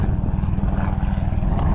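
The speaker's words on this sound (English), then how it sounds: "We're gonna let the helicopter pass. You don't want to hear that background noise." A helicopter passes over the Louisiana marsh with a loud, rapid rhythmic rotor thumping and engine drone, close and steady throughout, with no voices.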